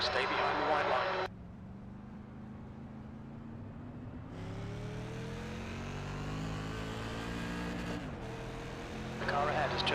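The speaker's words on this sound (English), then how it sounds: "There's a car approaching. Stay behind the white line." A race car engine in the iRacing sim hums steadily while another car approaches, its rising whine sweeping up and cutting off as it passes, with a brief loud burst at the start and end and talk over it.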